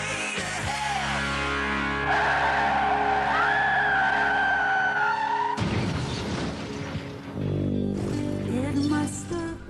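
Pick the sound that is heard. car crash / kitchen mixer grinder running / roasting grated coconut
car crash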